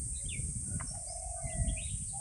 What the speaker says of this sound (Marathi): कोकिळ, बुलबुल, भारद्वाज, सुतार पक्षी, किंगफिशर असे अनेक पक्षी आहेत तिकडे.